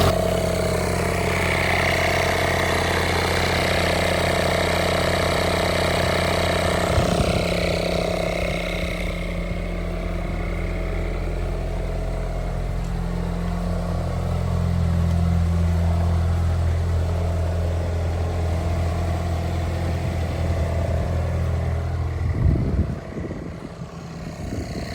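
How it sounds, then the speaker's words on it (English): A Nissan Primera P11 GT idles steadily at close range, a low, even hum with a constant pitch that holds across the whole stretch, sounding smooth with no misfires or surges. "Really nice smooth engine"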